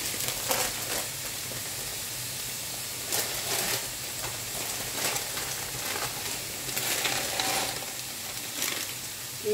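Water boiling in a pot as penne pasta goes in: a steady bubbling hiss with scattered clatters and rattles as the dry pasta drops into the pot, fairly quiet and close, with no talk.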